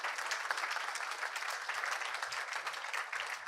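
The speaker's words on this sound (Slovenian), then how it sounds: "Prosim, en aplavz" Steady, dense clapping from a comedy roast audience, loud and continuous with no pauses, like a full audience applauding.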